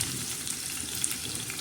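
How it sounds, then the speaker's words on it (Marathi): Chopped tomatoes and fenugreek leaves with onion sizzle and fry in a pan as a soft, steady crackle and hiss, close and fairly quiet, with no talking. "आता हे छान असं मस्त परतून घ्यायचं."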